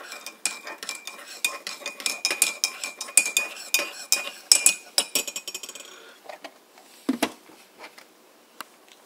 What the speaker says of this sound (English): And after that, you stir it up.